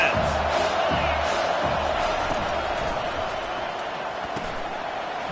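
A stadium crowd in an American football video game roars steadily, a dense wall of cheering and noise that holds throughout, with commentary voices over it.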